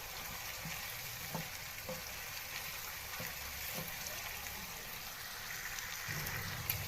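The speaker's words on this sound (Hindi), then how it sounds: "1 मिनट तक हम घी में करेंगे इस तरह फ्राई" Spices fry in ghee in a karahi for chicken karahi, a soft continuous sizzle close by, broken now and then by light stirring taps and scrapes.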